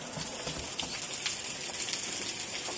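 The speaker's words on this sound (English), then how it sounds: "You can hear the rain outside." Heavy typhoon rain pours down outside during Typhoon Hagibis in Japan, a steady hissing wash of water that fills the short clip evenly and loudly, with no voices over it.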